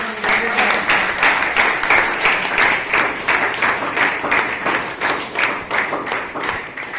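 An audience at a college event claps loudly in a steady, rhythmic applause that pulses at an even beat, close and continuous from start to end.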